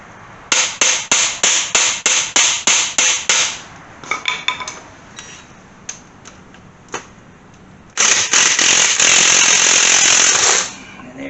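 Rapid series of sharp metallic hammer blows driving a socket onto a seized bolt on an engine left outdoors under a tarp for twenty years, about ten quick strikes, then scattered knocks and a loud sustained rasp near the end.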